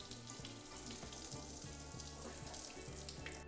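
Rice being rinsed and drained through a perforated strainer gives a soft, steady trickle and patter of water, faint and continuous without talk.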